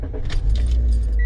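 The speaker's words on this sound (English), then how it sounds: "So now let's open the car" A Toyota Corolla being opened, with keys jangling and a door latch clicking close to the microphone over a low steady hum, no voices.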